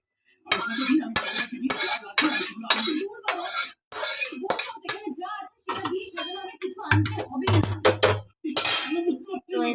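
A cooking pot is lifted off the stove with sharp, repeated metallic clanks and clinks of utensils, close and loud, in short bursts across the whole stretch.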